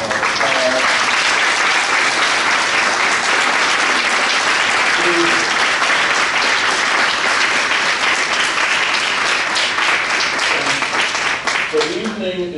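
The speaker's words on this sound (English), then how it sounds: "let us give them another round of applause" A lecture audience at a Frederick Douglass bicentennial event gives a sustained, loud round of applause for two speakers, dense clapping that holds steady and then begins to thin toward the end.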